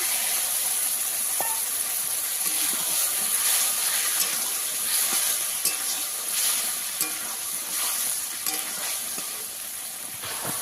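Spiced water left from boiling goes into a pan of bhola fish curry with potatoes, eggplant and cooked-down tomatoes, setting off a steady, close sizzle and bubbling hiss that runs the whole time with small clinks.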